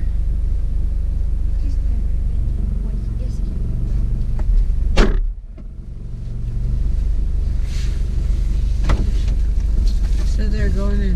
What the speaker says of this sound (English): let's go for a ride in the caliber